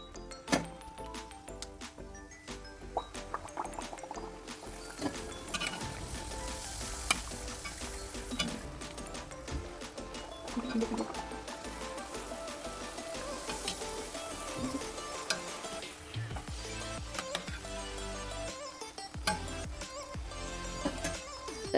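Karjikayi sweets stuffed with jaggery filling fry in hot oil one by one, a steady dense sizzle and bubbling running throughout with occasional stirring clinks, close and continuous.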